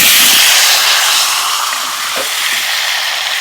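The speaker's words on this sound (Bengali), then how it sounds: "আলুটা ভেজে নেব।" Potato pieces frying in hot mustard oil in a kadai, a loud, steady broadband sizzle and hiss close by, with no talk.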